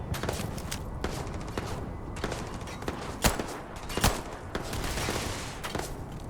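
Gunfire from enemies taking pot shots in the Starfield video game: scattered bursts and single sharp shots over continuous game noise, with two louder cracks standing out near the middle.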